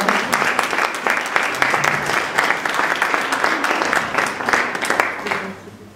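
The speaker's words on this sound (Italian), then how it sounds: "Quindi un applauso a Pietro." Audience applause follows an introduction at an Italian bridal gown presentation; dense, sustained clapping fills the room, fading out toward the end.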